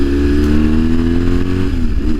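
A BMW R1150 GS motorcycle engine drones loud and close through its exhaust, a steady low throbbing rumble heard from the rider's position with a slight dip in pitch near the end.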